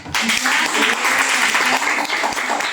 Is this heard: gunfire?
no